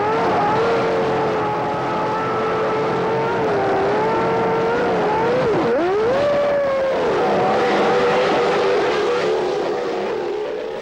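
A 1993 Formula 1 car pulls away from the pits after a tyre stop in wet, slippery conditions. Its engine note holds steady and continuous, dips briefly, then rises again, loud and close throughout.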